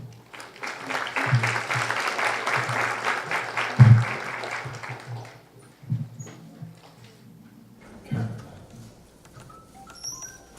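An audience at an evening legal lecture on adolescent criminal responsibility applauds to welcome a speaker, a dense burst of clapping for about five seconds that then fades, followed by scattered thumps and quiet room noise.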